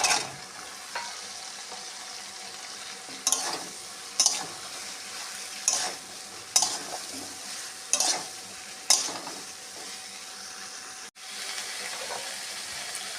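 Ridge gourd and eggplant fry with spice paste in a pan, a steady soft sizzle broken by about seven sharp scraping stirs spaced a second or so apart, close and moderately loud with no voices.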